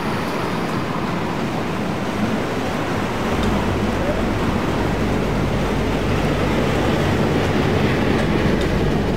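A freight train pulling away in the Train Simulator 2016 game, giving a steady loud mechanical rumble that builds slightly as it departs, with no speech over it.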